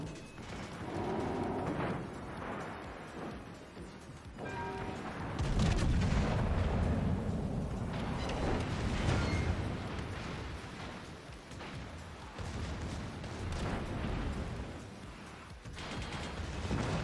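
Secondary guns on the Italian Tier VII battleship Francesco Caracciolo fire in World of Warships, repeated booming shots and a rumbling salvo over continuous ship and sea noise, fairly loud and close.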